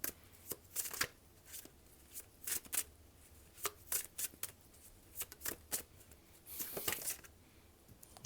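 Tarot cards shuffled by hand in a quiet room, a quick series of crisp riffling bursts and soft slaps coming close and fairly loud, with short pauses between them.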